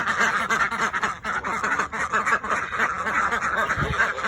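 Ducks quacking at a farm, a dense, loud flock of overlapping quacks and occasional honks going on continuously close by, with no clear speech.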